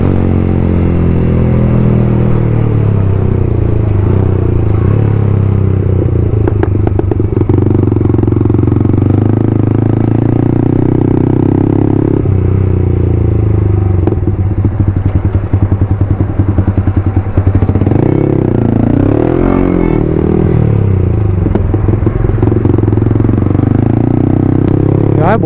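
Loud motorcycle engines roar continuously nearby, rising and falling as several bikes rev and pass, with clattering and thumps mixed in.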